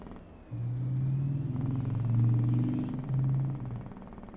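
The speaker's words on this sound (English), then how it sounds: "That was a loud truck outside my house." A heavy vehicle rumbles past close by, a loud low droning engine that swells and fades over several seconds, with no voices.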